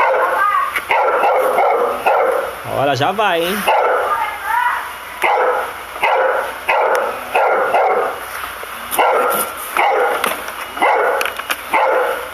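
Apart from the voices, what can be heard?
dog barking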